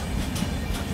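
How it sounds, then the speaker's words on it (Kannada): Ajmer–Ernakulam train crossing at Kumta railway station, a loud, dense rumble with rhythmic wheel beats, close by, for a brief moment. "Ajmer Ernakulam train crossing at Kumta railway station"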